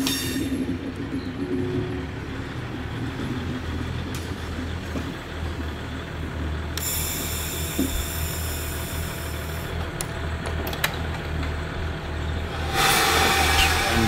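Inside the control car of a moving Lollandsbanen train in Denmark, a steady low rumble and rattle rolls on, with occasional clicks and a hiss rising near the end.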